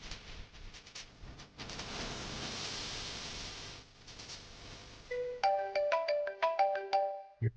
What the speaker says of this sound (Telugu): ఇప్పుడు ఈ టైంలో సౌందర్య ఫోన్ చేస్తున్నట్టు.